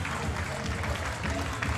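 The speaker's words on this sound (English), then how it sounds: "Now the crowd getting behind" Crowd applause for wrestler Steve Scott at a JCW wrestling event, a dense, steady roar of clapping and cheering filling the whole moment with no pause.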